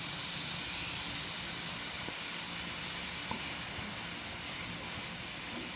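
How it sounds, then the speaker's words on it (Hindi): Spices with tomatoes frying in a pan for namkeen seviyan, a steady, close, continuous sizzle and hiss with faint stirring ticks, no talking. "अब इसको हमने भून लेना है 2 मिनट तक।"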